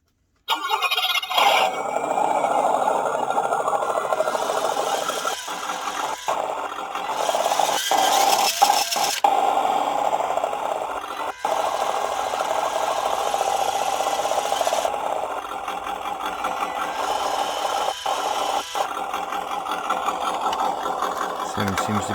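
Simulated engine rumble from a RES V3 sound kit fitted to a WPL C24-1 RC truck, a steady loud drone that changes pitch as the throttle rises and falls, with rattles and rubbing noises and brief dropouts where the sound cuts out.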